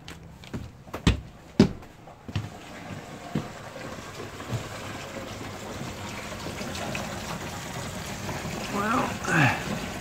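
An RV's fresh water tank fills from a hose with a steady, soft rushing trickle, preceded by a few sharp knocks at the start, with a brief voice heard near the end.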